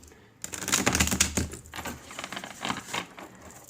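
Quick papery riffling and flicking of tarot cards being shuffled close by, a dense burst of soft clicks that eases into lighter, scattered shuffles.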